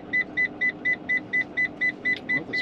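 A car inside a packed moving van beeps as a steady seatbelt warning, about eleven evenly spaced short electronic tones at a quick rhythm, fairly close and clear over a low cabin hum.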